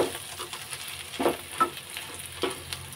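A spiced potato mixture with coriander powder and turmeric is stirred in a pan for crispy aloo patties, a soft steady sizzle broken by a few short scraping strokes of the spoon, close and alone.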